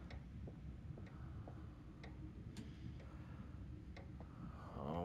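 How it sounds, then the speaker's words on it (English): A loud clock ticks steadily in The Devil In Me horror game, sharp regular ticks spaced about half a second apart over a dense low rumble of ambience. "That clock was so loud."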